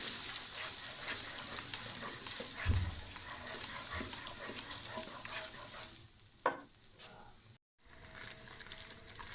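A ground onion mixture fries quietly in a pan for a peas and egg curry, soft sizzling with scraping stirs, one louder knock midway and a brief dropout near the end.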